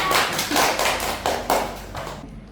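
Applause for podcast guest Ibu Rizka comes in a few loud, broadband bursts of clapping that swell and ebb, then cut off abruptly into quiet at the end.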